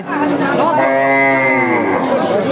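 A meat cow at a busy Jhenaidah cattle market gives a single long, loud moo lasting about two seconds, close by, with faint crowd chatter in the background.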